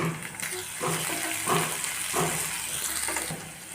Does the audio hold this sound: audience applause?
no